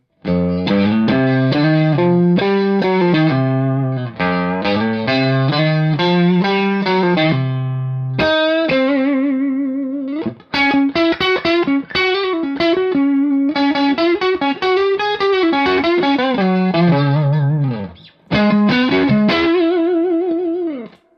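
A warm, round electric guitar on the neck pickup plays flowing lead lines with light distortion and chorus, phrases separated by short pauses, loud and unaccompanied.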